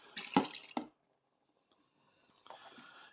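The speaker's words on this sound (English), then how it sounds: "add in some more water to help make the gravy" Warm water poured into a pan of simmering chicken chasni gravy, a short splashing burst followed by quiet, then a faint bubbling trickle; close and alone with no talking.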